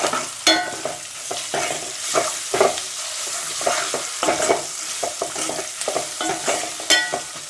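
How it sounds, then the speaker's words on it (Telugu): Fried onions with ginger and turmeric are stirred in a hot pan: a close, steady sizzle broken by frequent scraping strokes of the spoon in an uneven rhythm, with no talking. "ఉల్లిగడ్డ ఫ్రై అయిన తర్వాత కొంచెం అల్లం, అలానే పసుపు వేసి కలిపేద్దాం."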